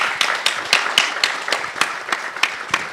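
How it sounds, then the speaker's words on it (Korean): Audience applause at a Korean research-institute talk concert, a crowd clapping steadily with sharp irregular hand claps throughout, fairly close and alone without speech. "황 회장님께 한번 큰 박수 한번 보내주십시오."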